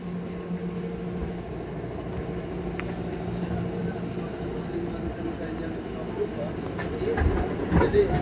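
KRL commuter train ride near Bekasi station, a steady rolling rumble inside the carriage with faint clicks of wheels on rails, growing a little louder toward the end.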